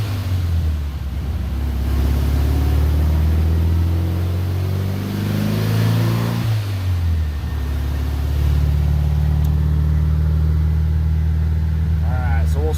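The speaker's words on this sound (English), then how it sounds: "So we'll go ahead and do a third gear pull." A 1600cc VW Beetle engine pulls in third gear on a dyno, loud and close, its revving pitch rising and falling, then settling before climbing again.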